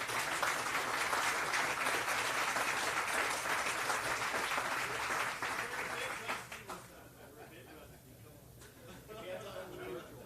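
An audience at the 2021 State of Mobility event with the Houston mayor breaks into dense, sustained applause that thins out after about six seconds, leaving a quieter room with faint talk.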